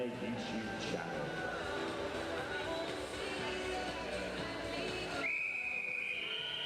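Referee whistles at a school netball tournament sound from across the courts, with short distant blasts and one longer shrill whistle near the end, under continuous commentary.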